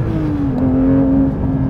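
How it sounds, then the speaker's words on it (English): A 503-horsepower naturally aspirated flat-six in a Porsche 911 GT3 Touring, fitted with gasoline particulate filters, hums loud and steady, its pitch dipping slightly and then holding a sustained drone with no talk. "this engine's got gasoline particulate filters on it now, which is supposed to muffle it, but it still sounds amazing"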